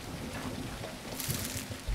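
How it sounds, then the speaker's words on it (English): Heavy rain in the survival video game Tribe Primitive Builder, a dense steady hiss of downpour with soft pattering, continuous and even throughout. "I love the sound of rain"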